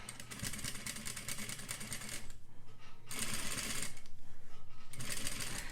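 A sewing machine runs in quick bursts while back stitching a bias facing around a curved neckline, a rapid rhythmic whirring with short pauses between runs.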